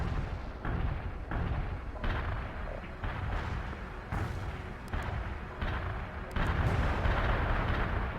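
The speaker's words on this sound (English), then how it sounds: "Heavy artillery barrage inbound." A heavy artillery barrage in the real-time strategy game World in Conflict, with continuous rumbling booms and overlapping explosions rolling one after another at steady loudness for the whole stretch, no voices over it.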